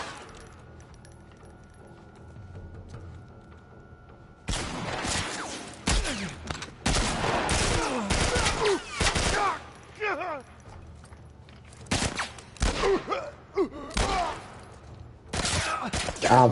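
Bursts of gunfire with heavy recoil in The Last of Us, fired in repeated volleys after a quieter opening, loud and close, with players talking over the shots.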